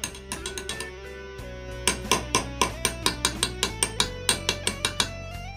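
Medium hammer tapping a two-stroke Yamaha RX King motorcycle oil seal into place, a run of sharp metallic strikes in steady rhythm, lighter at first then louder and evenly spaced, close and with no talk.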